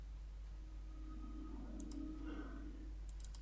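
Computer mouse clicks while working in Tekla Structures 2017, a quick cluster of crisp clicks near the end over a steady low hum, with faint indistinct speech in the background.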